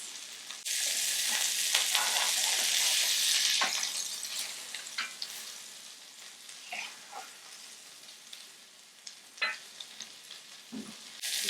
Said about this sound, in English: I want to really sear both sides well